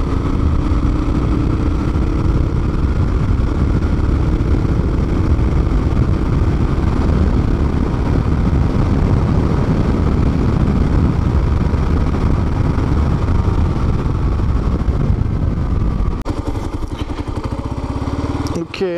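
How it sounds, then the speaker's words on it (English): A Kawasaki KLR motorcycle drones steadily under heavy wind buffeting on a helmet microphone, a loud roaring rush throughout that drops and changes abruptly near the end. "So the wind noise might be horrific on this."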